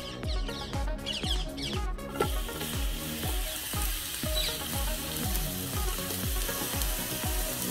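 Onions caramelising with sugar in a pan over an outdoor firepit, a loud, steady sizzle with regular rhythmic pulses repeating throughout, like music playing underneath.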